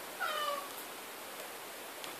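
A domestic cat meows once in a drawn-out call near the start, fairly close and clear, followed by quiet room noise and a faint rustle, with no speech.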